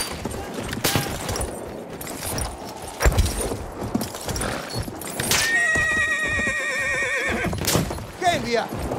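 Cavalry horse in Battlefield 1 letting out a loud, shrill whinny over galloping clip-clop hooves, amid gunfire, clatter and shouted voices on a chaotic battlefield.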